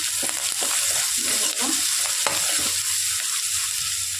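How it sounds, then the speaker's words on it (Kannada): Pepper powder frying in a pan, a loud, steady sizzle throughout with occasional scraping stirs of a spatula against the metal. "ಫ್ರೈ ಮಾಡ್ಕೊಳ್ಳಿ."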